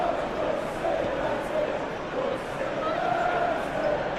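Simulated stadium crowd at a Manchester United vs Chelsea Premier League football game, a steady roaring murmur with swelling chants that runs continuously beneath a commentator's voice.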